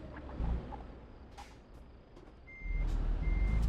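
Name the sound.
truck reversing beeps in video game Euro Truck Simulator 2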